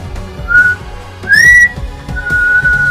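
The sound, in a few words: mysterious whistle sound effect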